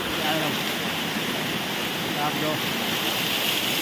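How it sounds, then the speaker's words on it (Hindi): Water pours steadily at the Gambharidihi waterfall near Sundargarh, a continuous broad rushing roar that fills the whole stretch while a person talks over it. "ये पानी आ रहा है देखिए वाटरफॉल से"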